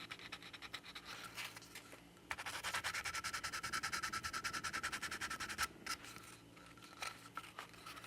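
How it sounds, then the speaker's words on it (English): Close, steady sanding of flash marks on soft vinyl model kit parts, starting as light intermittent scratches and building into a fast, rhythmic back-and-forth rasp for several seconds before slowing to scattered strokes. "I'm going to come in here and kind of sand where I took those little flash marks off"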